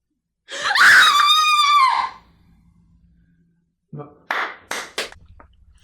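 An actor lets out a long, loud, wavering scream that cuts off abruptly, then after a pause comes a few short, sharp bursts of effort noises or shouts.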